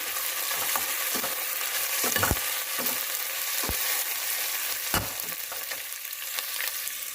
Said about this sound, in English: along with the onion, here I am adding the green chilli